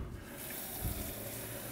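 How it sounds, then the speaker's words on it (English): Water runs into a bowl for Swedish rye bread dough, a faint steady splashing pour lasting under two seconds in a home kitchen, with no talking. "we get another 2 cups of water"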